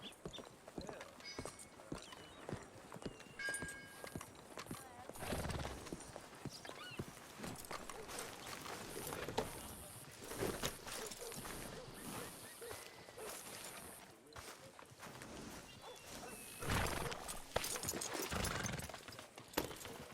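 Steady clip-clop of horse hooves trotting along in Red Dead Redemption 2, with occasional heavier thuds and a busy background, mixed with low game-style ambience.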